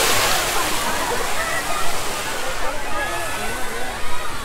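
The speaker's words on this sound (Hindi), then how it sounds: "एकदम बेहतरीन अंदाज से पानी गिर रहा" Water pours down at a fountain by Hussain Sagar Lake near the Buddha statue island in a dense, continuous splashing roar, loud and close, with people's voices mixed in.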